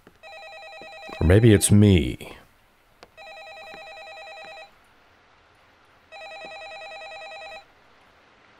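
Two bursts of electronic telephone ringing from a phone in a horror game house, each about a second and a half long with a pause between, heard after a short spoken line.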